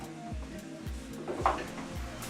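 Mince and onions browning in a hot pan while a utensil breaks up the meat, giving steady low sizzling with repeated dull scraping knocks against the pan and a brief clink in the middle.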